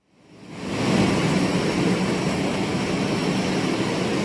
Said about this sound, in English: The plane has just approached the front of the airport right now